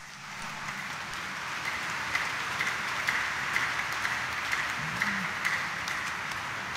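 A church congregation at a Sunday mass in Quiapo Church claps loudly, a steady dense wash of applause filling the space without a break.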